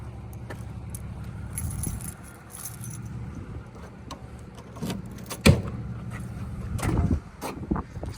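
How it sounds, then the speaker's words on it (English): Keys jangle close by as the trunk of a 1980 Chevrolet Malibu is opened, a light metallic rattling followed by a few sharper clunks from the car body and latch. "Grab the keys, pop the trunk for you guys"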